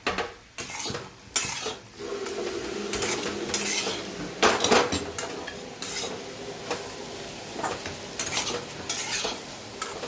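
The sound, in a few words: mixing okra sabzi in a pan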